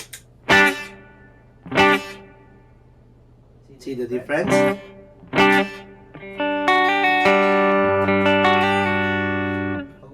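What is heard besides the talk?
guitar with spring reverb effect pedal turned on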